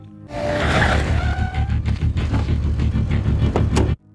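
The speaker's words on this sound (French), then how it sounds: "Une voiture arrive à l'intersection" A car engine approaches an intersection and rumbles close by, a steady motor drone with a brief squeal near the end before cutting off.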